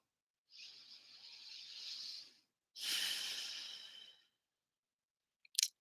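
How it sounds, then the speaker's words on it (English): Two long, slow breaths, a deep inhale followed by a deep exhale, soft and close, each about two seconds long with a short pause between them. "Breathing deeply, letting it all go on the exhale."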